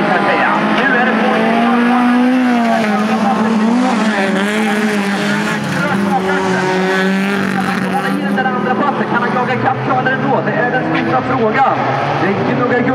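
Folkrace cars racing at Vimmerby in 2017, engines revving and droning loudly and continuously with tyre noise throughout, while a commentator talks over them.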